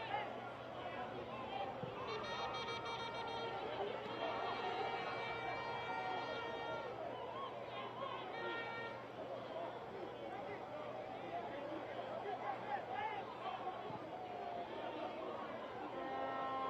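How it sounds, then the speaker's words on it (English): Haiti fans in a small stadium crowd at a Guyana vs Haiti international football match make a steady hubbub of chatter and distant cheering, with talk heard over it. "I can hear these Haiti fans"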